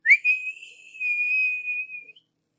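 A voice imitates a bullfrog's high-pitched whistle, a thin, shrill, sustained tone that wavers slightly and lasts about two seconds, heard alone with no talking.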